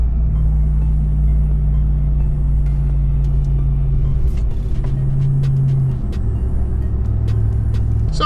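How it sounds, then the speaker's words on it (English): A 2021 Ram TRX engine heard from inside the cab with a window open, a loud steady low exhaust rumble with a slight shift in pitch midway, no talking. "I can pop that daggone window open and I can hear some rasp out of it."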